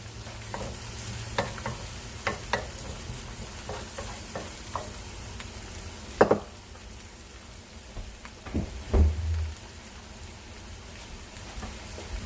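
Onions tossed into a pan for Karnataka-style yellow rice fry with a steady sizzling crackle, broken by a few louder clattering stirs and pops near the middle and later, with no talking.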